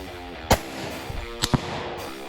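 5.56 rifle rounds fired into a box of sand: three sharp, loud cracks, one alone and then a quick close pair about a second later, over a steady low hum.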